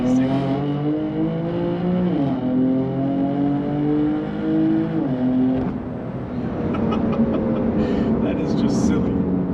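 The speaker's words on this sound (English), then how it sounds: "The titanium exhaust system on the M4 GTS sounds amazing." A BMW M4 GTS's titanium exhaust revs loudly and close, pitch rising and dropping through repeated gear shifts before settling into a rough, crackling drone.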